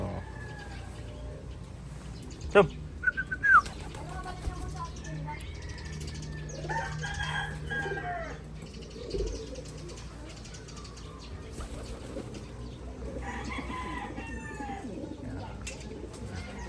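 Racing pigeons fly over and return to their loft in the open, with faint coos and a few short sharp flaps or wing claps near the start over a low outdoor background, and someone speaks at times.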